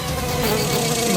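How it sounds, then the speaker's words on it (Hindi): Housefly buzzing steadily and loudly up close for a brief moment, a continuous droning whine with slight wavering. "मक्खी"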